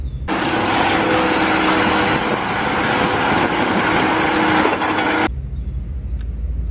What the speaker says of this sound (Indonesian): Di sini ada mobil pasir.